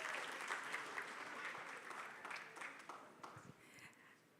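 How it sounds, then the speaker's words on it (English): An audience at a book launch for Martha Karua's Against the Tide claps steadily, a dense sustained round of applause that thins slightly toward the end. "Makofi tafadhali"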